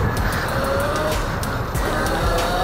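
The E-BOX 2.0, a cheap electric pit bike with an upgraded controller, is ridden up onto a wheelie. Its motor whine rises under a rough, loud rush of tire and ground noise, close by and with no voices.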